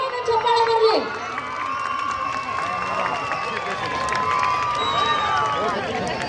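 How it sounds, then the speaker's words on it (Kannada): An audience at a Yelahanka community function cheers and whistles in a noisy, sustained crowd roar, with scattered clapping and voices mixed in. "ಅವ್ರಿಗೆ ಜೋರಾದ ಚಪ್ಪಾಳೆ ಬರಲಿ"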